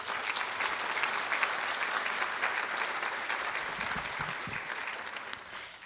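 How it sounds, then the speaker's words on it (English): Law school commencement crowd giving a sustained round of applause, dense even clapping from a large audience that holds steady throughout with a slight fade near the end. "how about another round of applause for them?"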